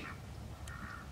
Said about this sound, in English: And the chickens and ducks are coming out.